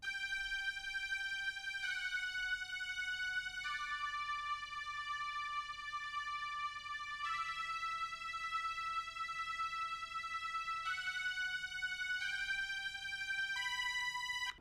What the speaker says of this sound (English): we have the Vienna strings